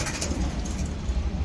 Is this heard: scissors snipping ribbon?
no